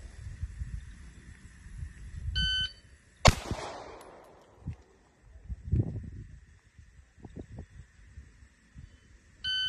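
Shooting timer start tone on a pistol range: a short electronic beep sounds alone near the start, followed moments later by a loud sharp pistol shot and quieter knocks and movement, with another beep at the end.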